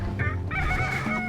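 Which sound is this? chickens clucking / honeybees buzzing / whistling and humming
chickens clucking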